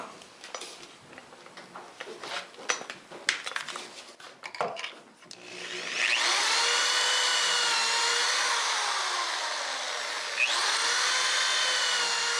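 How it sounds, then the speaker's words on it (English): A power drill bores pocket holes in half-inch plywood through a micro drill guide, with a steady, loud whine running about six seconds after a stretch of clattering handling and short bursts. "I'm going to use pocket hole screws to attach the feet to the scrap bin."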